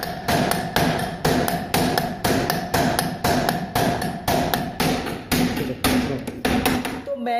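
A hammer pounds the brake drum of an e-rickshaw wheel in around twenty sharp, ringing metallic blows, struck in a quick, steady rhythm and heard up close.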